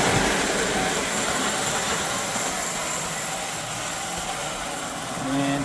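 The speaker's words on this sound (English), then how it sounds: "It's a good running locomotive." A Lionel 390E toy steam locomotive from 1929 running on track, giving a steady, continuous rolling whir and rumble that stays close and fairly loud throughout, swelling slightly near the end.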